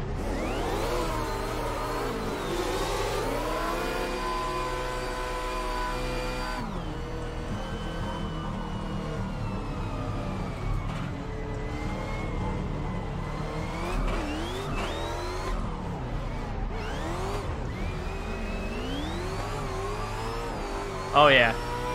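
Car engines in a racing video game rev and whine steadily with rising and falling pitch sweeps, loud and continuous under background music and talk, ending with a short sharp impact.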